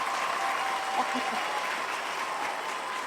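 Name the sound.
applause, clapping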